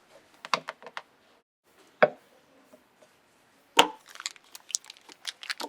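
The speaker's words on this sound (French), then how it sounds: "Coupez le beurre en morceaux." A knife cuts butter into pieces on a board, making sparse, sharp taps and clicks in short irregular clusters that are close and fairly crisp. No one speaks.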